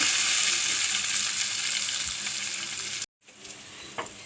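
Onions sizzling in hot oil in a pan for cauliflower curry, a steady loud frying hiss that cuts out abruptly and then returns more faintly.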